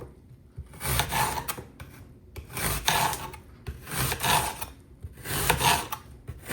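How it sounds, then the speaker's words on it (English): A knife cuts an apple into thin slices, making repeated rasping, scraping strokes in a steady rhythm, about four passes with short pauses between them, close and moderately loud. "I'm just trying to slice it as thin as I can."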